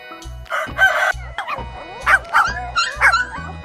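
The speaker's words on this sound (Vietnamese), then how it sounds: "Chú chó con." A puppy gives several short, high yapping barks in quick bursts, close and loud, over a steady bouncy music beat.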